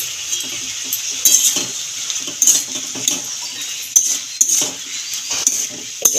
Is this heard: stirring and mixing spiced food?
yes